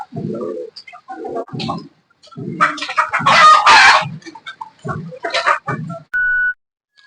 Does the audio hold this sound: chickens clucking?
yes